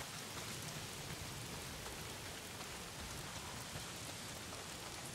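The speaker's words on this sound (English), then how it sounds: "as the rain starts to roll in" Steady heavy rain pours during a storm in the Days Gone video game, a dense, continuous hiss of drops striking surfaces with a low rumble underneath, unbroken for the whole stretch.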